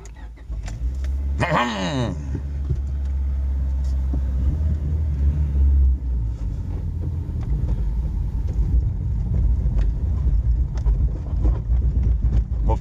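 A Honda HR-V drives on the road with a loud low rumble and road noise, a brief whirring rise near the start, and bumpy knocks, while people talk inside the car.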